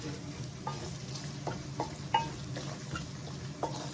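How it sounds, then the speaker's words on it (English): Tomato paste frying in a pan for hunter's chicken gives a soft, steady sizzle. A few light clicks and taps sound at intervals, like a spoon stirring against the pan. "Allow this to fry for another 5 minutes"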